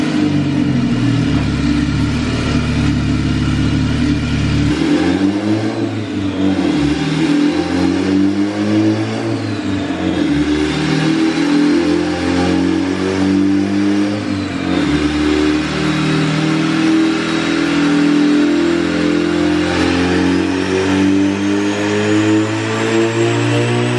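Turbocharged Honda D15 single-cam engine with a bleed-valve boost controller revving hard on a dyno, loud and close, climbing through several sweeping pulls with drops in between before one long rising run.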